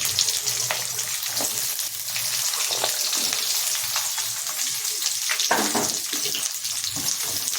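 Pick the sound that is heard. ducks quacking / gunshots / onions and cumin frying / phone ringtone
onions and cumin frying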